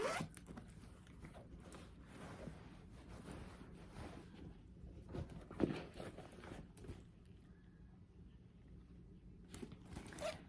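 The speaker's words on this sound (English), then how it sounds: "Got your top zip closure." A zipper on a handbag's top closure is run along its track, giving faint, close rasping scrapes in short irregular runs over quiet background hiss.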